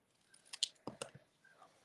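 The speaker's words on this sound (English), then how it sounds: "I tend to always just take my scissors and fussy cut my sentiments." Scissors make a few quiet, crisp snips while fussy cutting a paper stamped sentiment for card making, with short cuts clustered near the middle and no talk.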